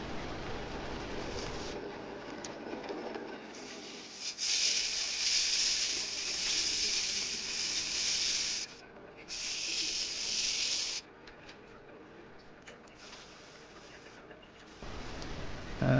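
A screw chisel used as a scraper on very dry mahogany turning on a wood lathe, giving bursts of harsh, hissy scraping that come and go, with quieter gaps between passes.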